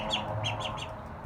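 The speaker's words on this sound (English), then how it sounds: "No ducks in the house." Ducks at a house door give a few quick, faint quacks in a short rhythmic burst over a low background hum.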